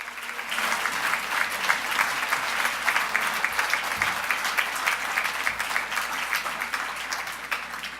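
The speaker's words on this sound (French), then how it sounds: "Je vous demanderai de les applaudir." Sustained audience applause at an award ceremony honouring the city of Lévis, steady and full clapping from a sizeable crowd throughout with no talk over it.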